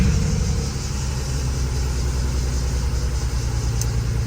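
A BMW 335xi engine runs steadily at idle, a loud, close, continuous mechanical hum with a deep low rumble and no voices.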